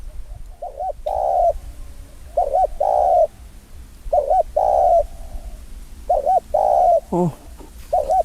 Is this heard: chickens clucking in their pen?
no